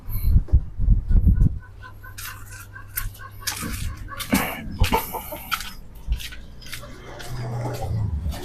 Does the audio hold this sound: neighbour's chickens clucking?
yes